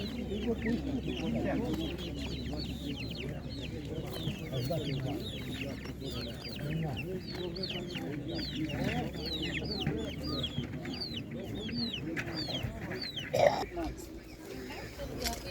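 A crowded, noisy animal market full of chickens and young roosters clucking continuously, with chattering and background bustle throughout.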